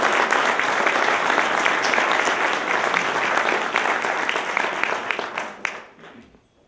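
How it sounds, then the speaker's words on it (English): A large audience applauds in a dense, sustained wash of clapping that holds steady for several seconds before tapering off quickly into near silence. "Let's give a round of applause to the Republican."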